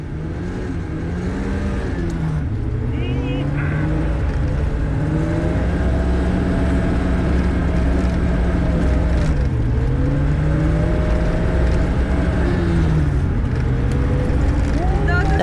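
A car drifts on snow while its engine revs and wails in long rising and falling sweeps. People talk over the engine noise inside the car.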